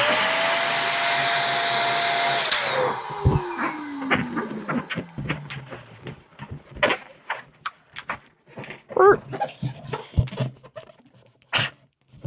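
An electric balloon pump whines steadily for a couple of seconds then shuts off with a falling tone, followed by scattered rubbery squeaks, taps and handling noises as the balloon is tied.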